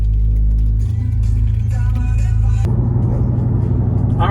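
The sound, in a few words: Cammed RT car driving on the road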